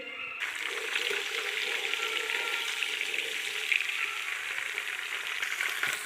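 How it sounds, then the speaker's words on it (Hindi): Cumin seeds fry in hot oil with a bright, continuous crackling sizzle, close and even, with no talk over it. "अब इसको थोड़ी देर फ्राई करते हैं 1 मिनट के लिए"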